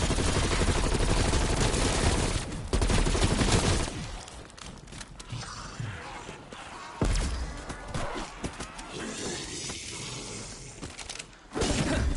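A frag grenade explodes in Call of Duty: Black Ops Cold War's Die Maschine zombies mode, with loud, sharp blasts and shattering bursts mixed into rapid gunfire. The din drops away briefly, then surges again.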